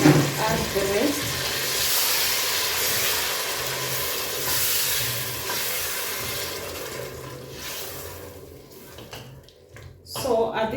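Tomatoes tossed into a pan of frying onions and potatoes hiss and sizzle steadily, with stirring scrapes throughout, the sizzle easing briefly near the end before flaring again.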